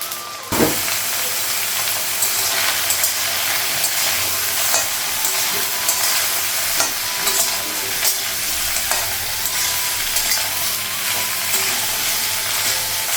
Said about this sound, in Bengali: আর কড়াইতে শুকনো লঙ্কা কাঁচা লঙ্কাটা ভাজি।